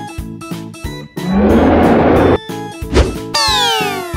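A long, loud cow moo sounds over a rhythmic musical backing, followed by a short accent and a sweeping synth tone.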